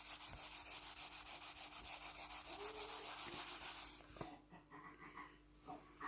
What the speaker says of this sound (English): I'm just going to rub lightly first.